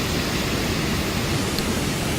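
A waterfall roars as a steady, dense wash of broadband noise, loud and close, with no pauses or other sounds.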